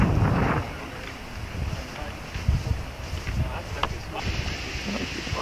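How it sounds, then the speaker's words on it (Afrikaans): Water is sprayed over a stone bed in the secondary treatment system of a Bloemfontein sewage works, giving a steady broad hiss and splash outdoors, buffeted by wind, with people talking nearby. "nou is ons by ons sekondêre stelsel waar die water oor 'n klipbasis gesproei word"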